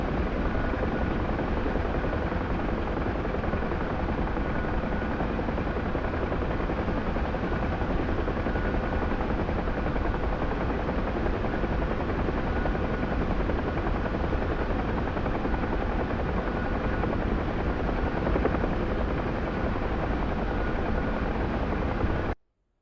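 A helicopter flies in the DCS World combat simulator with a steady, loud, continuous rotor and engine drone. It holds constant for about 22 seconds and then cuts off abruptly.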